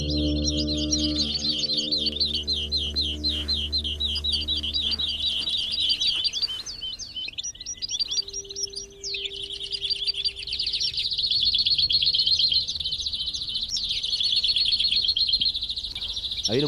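Greenfinches and a flock of small wild birds near Matalascañas chirp and twitter continuously, bright overlapping calls and trills close by, growing busier and louder toward the end.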